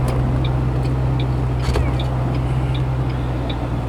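A 2007 Saleen Mustang drives along making a U-turn, its engine a steady low rumble close up inside the cabin, with faint ticking clicks recurring over the drone.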